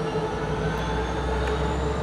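Amtrak 77 passenger train heading south behind two F59PH diesel locomotives with four cars, in Salisbury, passing as a steady, loud, continuous rumble and rail roar with faint wheel clatter, no voices.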